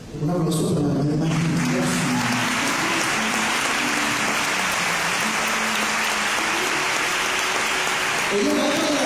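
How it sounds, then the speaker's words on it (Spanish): A church congregation applauds a woman during a sermon, sustained loud clapping from many people that swells after a brief spoken lead-in and carries on for several seconds, with voices faintly beneath. "Un aplauso para la hermana."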